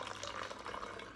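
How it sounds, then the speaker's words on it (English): Liquid poured carefully from a measuring cup into the mouth of a homemade rocket, a faint, brief trickling splash with soft bubbly gurgles. "I just poured some into a measuring cup, and I'm going to carefully pour it into the mouth of my rocket."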